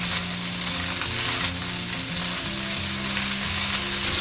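Roasted peanuts and green chillies for Maharashtrian thecha frying in a pan while being stirred, a steady loud sizzle with scraping stir sounds, no talking.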